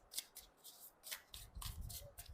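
A deck of tarot cards is shuffled close up by hand in a quiet room: a series of quick, crisp riffling bursts with soft papery slaps, faint but distinct.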